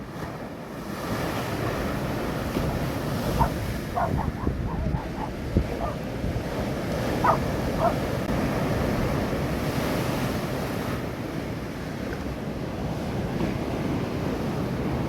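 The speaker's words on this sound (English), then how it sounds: "Should get a decent picture of some waves in a minute as they crash against the wall." Sea waves at Scarborough's South Cliff crash against the sea wall, a continuous heavy roar of surf with wind buffeting the microphone and occasional louder surges.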